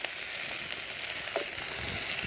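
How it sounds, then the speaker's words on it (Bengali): Ginger, garlic, onions, carrots and potatoes frying in a pan give a steady close sizzle with a faint stir partway through; no talking. "পেঁয়াজ, এগুলোকে একটু ভেজে নরম করে নেব। এবারে দিচ্ছি গাজর, আলু"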